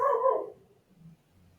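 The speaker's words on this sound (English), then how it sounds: "my dog is probably barking" A dog barks loudly and close by, reacting to a squirrel: a short burst of barking at the start, then fading into quieter low rumbling.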